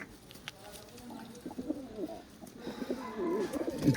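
Soft pigeon coos and low murmuring calls, close by, with faint rustling and background noise; the calls grow busier toward the end.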